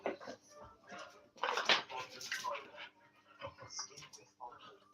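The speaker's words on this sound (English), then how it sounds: "Right, so I've got Merlin puppy wanting attention" A puppy whimpers and yips for attention indoors, soft high whines mixed with someone talking over it, fairly close and moderately quiet.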